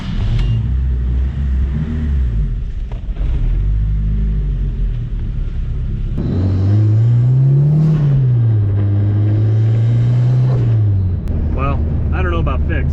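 Turbocharged 2.0L Pontiac Fiero driving with the T-tops out gives a loud low engine rumble that climbs into a rising and falling rev with turbo whir midway, amid steady wind noise.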